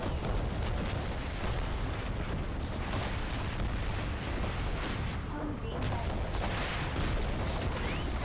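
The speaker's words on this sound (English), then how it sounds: "Holy crap, that's an artillery piece." Heavy artillery fire and explosions in the video game Renegade X, a dense, continuous barrage of booms and blasts filling the whole stretch, loud and close, with voices talking over it.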